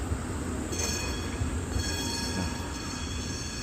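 A subway train runs above ground through central Prague with a steady, dense rumble and a thin high metallic whine from the wheels, continuous and fairly close throughout.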